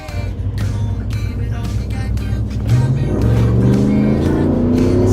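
A lifted Chevrolet Tahoe with a 5.3 V8 and 4L60 transmission accelerates hard off-road, its engine note loud and close, rising and swelling in pitch as it pulls through the gears.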